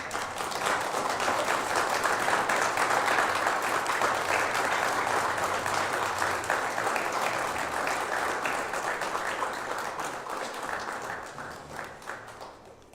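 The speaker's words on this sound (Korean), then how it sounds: "박수 한번 부탁드립니다." An audience claps at a Korea–Chile business ceremony, with sustained, dense applause that holds for about ten seconds before slowly fading.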